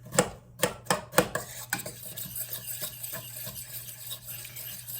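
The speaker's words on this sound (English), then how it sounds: "Give that a quick stir. There's a little frozen chunk in there." A spoon scrapes and clinks through homemade all-purpose pizza sauce in a pot with a small frozen chunk in it, giving a few sharp knocks at first and then softer, quicker rustling stirs nearby.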